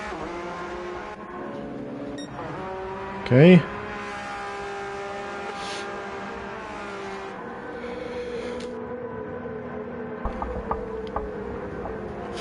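Race car engines at the Red Bull Ring, including a Porsche and a car diving into the pit lane: a sustained, whining engine drone with shifting pitch, a brief louder burst, and a short spoken word.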